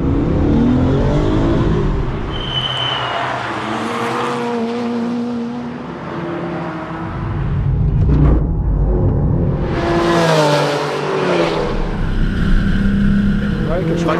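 Cars lapping the Croix-en-Ternois circuit, loud engines revving and shifting up through gears close by, with a second surge of acceleration after a brief lull; a voice talks over them.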